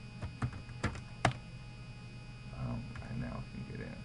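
Typing a command on a computer keyboard in a network security lab, with several sharp, distinct key clicks spaced out early on, then softer keystrokes under quiet talk, all over a steady low mains hum.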